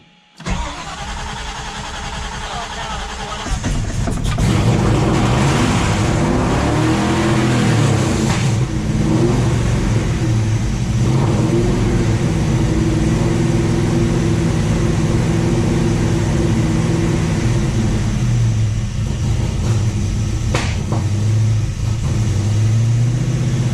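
Ford Falcon XB GS engine cranks and fires after a few quiet seconds, then runs loud and steady at a rough idle with occasional rev changes, close up.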